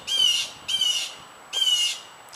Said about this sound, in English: Do you guys hear that bird?